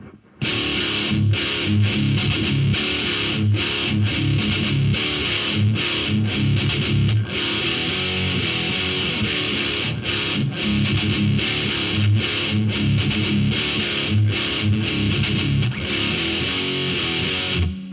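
A heavy metal electric guitar riff plays slowly through heavy distortion, chugging low notes in a steady repeating rhythm, loud and continuous with no talking.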